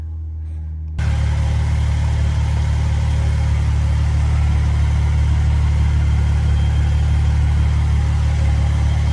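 A RAM 1500 with the Hurricane engine and a Flowmaster 818196 muffler idles with a steady, loud, low exhaust drone that starts abruptly and holds evenly, with no talk.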